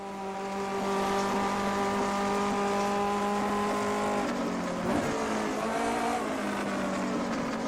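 Simulated 1958 Formula 1 racing engine at Spa in a racing video game, a loud, steady harmonic drone that holds its pitch, then shifts and wavers as the throttle changes near the end, with faint tire noise.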